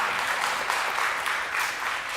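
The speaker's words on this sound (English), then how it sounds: "we should give her a round of applause as well" Audience applause at a summer children's music performance, a steady wash of many hands clapping at moderate distance, with no talking over it.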